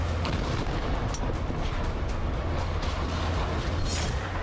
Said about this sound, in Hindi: ताबड़तोड़ हवाई हमले हो रहे, हर तरफ धमाकों की आवाज है।